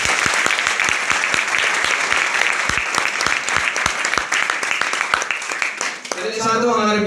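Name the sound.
loud applause from audience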